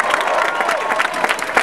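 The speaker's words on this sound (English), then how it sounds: "Give a round of applause to the Tribeca Film Festival." A comedy show audience breaks into loud, close applause mixed with crowd cheering, a dense burst of clapping with a few whoops rising over it.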